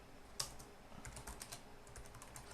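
Computer keyboard keys clatter in quick, uneven bursts of typing while editing text in Vim, fairly quiet and close, with no voices.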